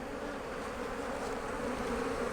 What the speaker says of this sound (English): see these bees flying around here? They're trying to go in.